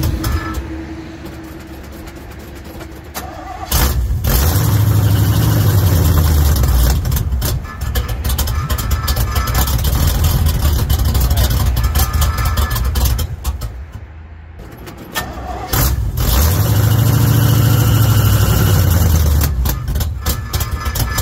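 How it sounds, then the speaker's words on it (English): A Chevy squarebody truck engine with a junk carburetor and a choke that doesn't work idles roughly. The steady rumble is near and loud, and its revving swells and fades twice. "This carburetor's junk, so it takes a while. And the choke doesn't work."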